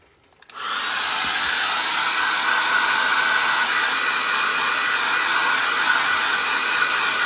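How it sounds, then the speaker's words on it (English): A handheld hair dryer switches on and blows steadily over a mixed media journal cover, a loud, constant whooshing roar that holds without a break. "let's give that a blow dry so it doesn't smear"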